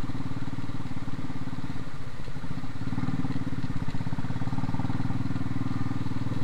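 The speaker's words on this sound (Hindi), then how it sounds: "मुझे बाइक चलानी है और मुझे रोड पे ध्यान देना है" A motorcycle engine runs steadily while riding the mountain road to Sach Pass, a loud, close, continuous throbbing drone with rattling mechanical clatter and no breaks.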